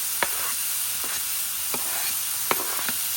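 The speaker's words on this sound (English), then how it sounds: "Hear that sizzle." Steady crackling sizzle of bacon frying in a hot skillet, a dense hiss broken by a few soft scraping clicks, with no voices.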